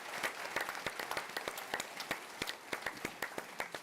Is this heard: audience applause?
yes